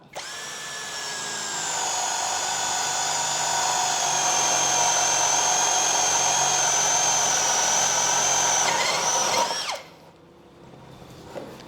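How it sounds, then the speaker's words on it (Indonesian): A Hasston cordless drill with a 16 mm spade bit bores into mahogany wood, a loud steady high whine lasting about nine seconds before spinning down abruptly to quiet. "Nah, ini mata bor kipas 16 mili ya."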